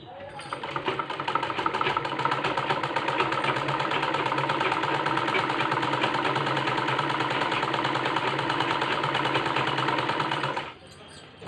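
A sewing machine stitches a fall onto a saree, a fast, even mechanical whirr running continuously and close for about ten seconds before stopping abruptly.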